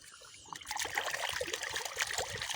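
Water trickling and pouring as mud is rinsed off a large freshly caught taki fish, a close, steady splashing dribble that swells after a quiet start, with no talking.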